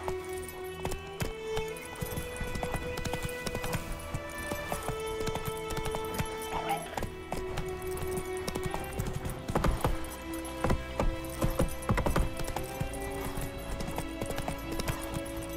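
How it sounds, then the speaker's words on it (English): Roach the horse galloping in The Witcher 3 game, steady rapid hoofbeats in a continuous rhythm under music with occasional whinnies, loud and close. "Giddy up. That's it, Roach."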